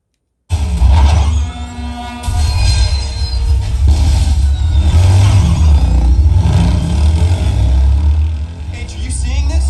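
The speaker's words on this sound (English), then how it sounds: "Ready Player One, and it's just part of the first race scene" A car race scene from the film Ready Player One plays loudly through a Sony SA-WX700 theater subwoofer, with heavy booming engine roars, screeching and crashing effects, and snippets of dialogue over the rumbling low end.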